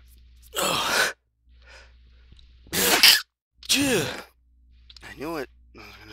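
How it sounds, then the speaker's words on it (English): A man's sneeze bursts out once in a quiet room, followed by a second explosive burst and a sigh-like breath, then soft vocal noises. "I'm gonna start sneezing."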